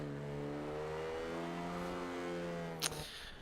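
A little Mini in Forza Horizon 2 drifting in D class, its engine holding a steady, buzzing rev that slowly climbs in pitch before a sharp scrape or thump near the end.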